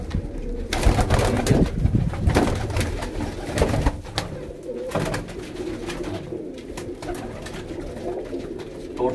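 Breeder pigeons in a loft in Faisalabad, Pakistan, coo repeatedly in soft throaty rolls, several birds overlapping close by amid rustling, flapping and background clatter.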